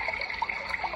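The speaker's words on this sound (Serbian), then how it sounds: "valovi," Ocean waves from a white noise app on a phone, a steady rushing hiss with gentle swells lasting about a second.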